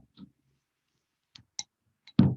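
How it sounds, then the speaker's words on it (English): Scissors snipping the ends off floral tape on a foraged spring flower band, a few sparse close clicks separated by silence, ending in a louder rustling cut. "And then what I'm going to do is I'm just going to cut these ends off."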